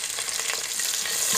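Mustard seeds fry in hot oil for jeera rice, crackling and spluttering in a dense, loud, continuous sizzle across a brief moment, with no voices.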